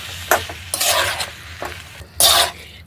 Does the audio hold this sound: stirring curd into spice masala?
yes